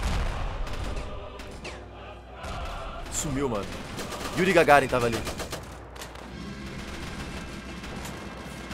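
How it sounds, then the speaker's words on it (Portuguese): Gunfire fills a battle in the video game Ravenfield, with bursts of shots and a loud booming blast in the middle, while someone talks casually over the fighting. "Nossa, quanto tiro indo pra lá, mano."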